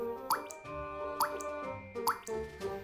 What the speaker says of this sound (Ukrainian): на кухню, де з крана тихесенько капала вода